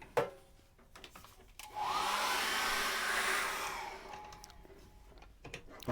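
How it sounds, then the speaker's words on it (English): A hairdryer is switched on to dry acrylic paint on a landscape canvas, rising into a steady whooshing whine for about two seconds before tapering off, with quieter handling sounds around it. "So I'm going to dry that with a hairdryer once again."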